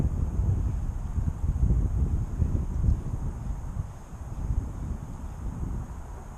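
Wind buffets an outdoor microphone at a trout-fishing spot, a steady low rumbling roar that swells and eases throughout with no other sounds standing out.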